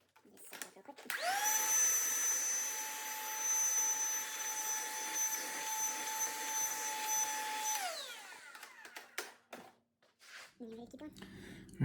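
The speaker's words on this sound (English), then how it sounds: "In my case, I just have a small vacuum." A small household vacuum cleaner switches on, whines steadily and loudly for about seven seconds near the microphone, then winds down and shuts off, leaving quiet room noise.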